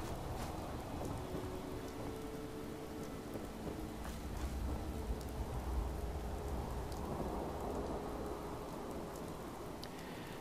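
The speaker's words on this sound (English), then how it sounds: "Now the rain is getting a bit tedious." Steady heavy rain falls in Fallout 4 at Somerville Place, with low thunder rumbling and swelling in the middle, all continuous and fairly distant.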